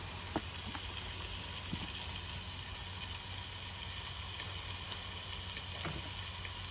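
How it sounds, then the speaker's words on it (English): Onions and bacon sizzle steadily in a pan over a camp stove, a continuous hiss and crackle broken by a few small pops, heard alone with no talking. "Onions and bacon going in."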